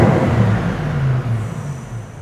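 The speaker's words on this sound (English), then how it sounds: "Let's see what it sounds like. Let's give it a little rev." A 2014 Bentley Continental GT V8 S with a 521 bhp 4.0 V8 revs loudly up close, a deep throaty engine note rising and settling over two seconds.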